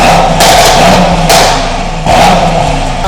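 Mercedes E63s V8 with downpipes fitted and primary cats and OPF filter removed, revving hard in three sharp bursts that rise and fall over a steady idle, loud and close with no voices.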